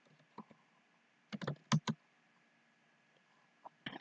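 Keys on a computer keyboard click in a short cluster of quick taps, with a couple of isolated presses before and after, fairly faint against a quiet background.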